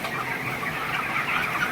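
A chicken held in the hand at a poultry farm clucks in short, close, agitated bursts over a constant rough background, with no talk.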